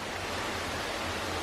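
Water rushes steadily at a small hidden waterfall in Triglav National Park, Slovenia, a constant broadband roar that is moderately faint and heard alone.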